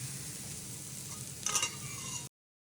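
Chicken pieces cooking in a pan for chicken pulao give a steady, soft sizzle, with a brief stirring scrape in the middle. The sound stays close and low-level, and no one speaks.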